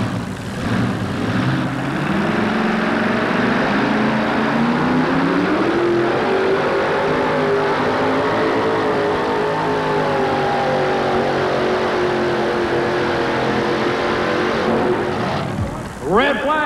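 A supercharged pulling vehicle at a tractor pull roars under load, a loud sustained engine drone whose pitch climbs and wavers across the run, while an announcer talks over it.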